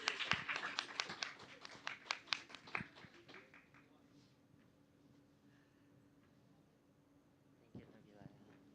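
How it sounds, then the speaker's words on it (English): Audience applause at a Toastmasters meeting, a short burst of several quick claps that fades out after about three seconds, leaving a quiet room hum and a faint voice near the end. "Please applause, guys"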